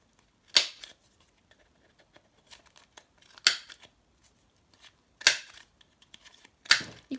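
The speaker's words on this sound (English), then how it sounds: "or you could punch the corners" Four sharp, crisp paper punches snap through the corners of a stamped paper label, spaced a second or two apart, close and loud against near silence with faint handling rustles between.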